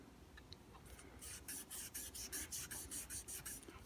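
Very fine sandpaper rubbed over the frets of an Epiphone SG guitar, a soft rhythmic scratching of about a dozen close, even strokes with no talking.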